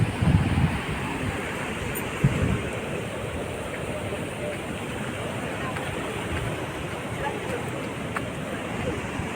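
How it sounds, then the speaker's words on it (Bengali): The Ajay river flows along a monsoon-season bank near Bolpur, where children bathe and locals fish: a steady, broad rushing wash, with a couple of louder surges near the start and then an even, continuous roar. "অজয় নদ বয়ে চলেছে তারই খেয়ালে"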